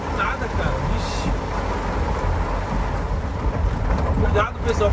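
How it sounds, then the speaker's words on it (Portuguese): Heavy rain drums steadily on a moving car in a sudden downpour, with road and engine noise rumbling underneath; the wash stays loud and even throughout, with brief louder splashes. "A chuva caiu do nada"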